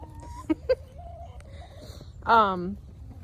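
A backyard rooster near barred rock hens gives a short, strained crow in cold weather, heard partway through amid nearby talking and a couple of brief squawks.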